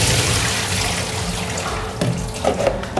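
Onions being rinsed and stirred by hand in a sink under running tap water, a steady close splashing stream with a few louder sloshes near the end.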